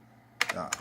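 A burst of fast keystrokes on a computer keyboard, a few quick clicks close by and alone, with no one speaking.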